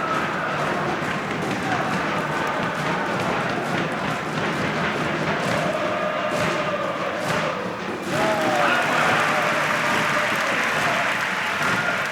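Applause and crowd noise fill an indoor basketball arena during a CSP Cholet women's game at the free-throw line, a steady clapping wash with thuds and murmurs throughout and a brief swell near the end.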